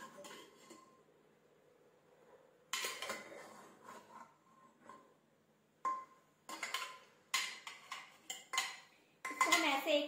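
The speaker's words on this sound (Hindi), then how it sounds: "इसको हम ऐसे एक बार चला लेंगे, मिक्स कर देंगे ताकि ये अच्छे से भून जाए।" A spoon stirs brinjal pieces in a pan, scraping and clinking against the metal in short, irregular clusters between quiet gaps. The sounds are close, and faint voice sounds come up now and then.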